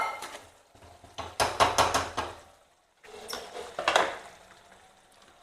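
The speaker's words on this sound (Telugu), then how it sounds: "ఇంకా మూత పెట్టేద్దాం" A metal lid goes onto a pot of chicken curry with garam masala, giving a cluster of sharp clanks and rattles, a pause, then another burst of clatter, close and fairly quiet.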